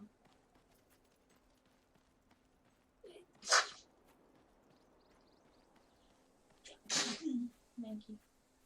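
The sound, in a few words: sneeze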